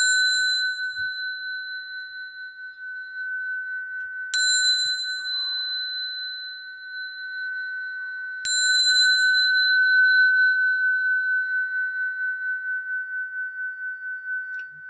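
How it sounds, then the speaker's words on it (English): A simple bell is struck twice, each ring sharp at onset then sustaining a long, clear, steady tone that lingers and slowly fades, with no talk over it. "So finish with this simple bell for the peace to you."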